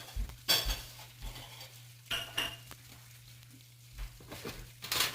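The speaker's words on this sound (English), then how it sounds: "you want to stir in 1 tablespoon of butter" A utensil stirs butter into a maple rosemary glaze in a pan, giving a few separate clinks and scrapes against the metal over a low steady hum, close and fairly quiet.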